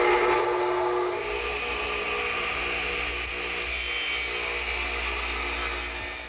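Redwood pieces for an arbor being sawn, a steady continuous rasping cut heard up close and alone.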